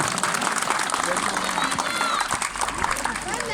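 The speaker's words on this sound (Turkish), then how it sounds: "Şöyle şanına layık bir alkış istirham ediyorum." A crowd at a wedding ceremony in Turkey breaks into loud, sustained applause, with voices and cheers mixed into the dense clapping.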